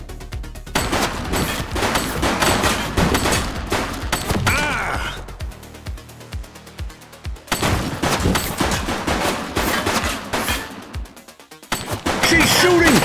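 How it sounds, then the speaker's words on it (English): Sustained gunfire rattles through a shootout in The Precinct, long bursts of rapid shots with heavy impacts and a brief lull midway, a voice briefly shouting over the loud, close barrage. "She's shooting!"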